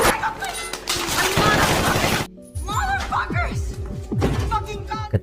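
A dense barrage of film gunfire tearing through a garage wall, a roaring burst followed by rapid cracks, thuds and impacts, loud and close, with voices mixed in.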